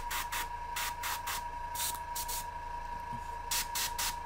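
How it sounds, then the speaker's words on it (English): An airbrush sprays primer in short repeated hissing bursts, close and fairly quiet, over a steady faint background hum. "My paint wasn't coming out the way I thought it should, so I did a hard spray."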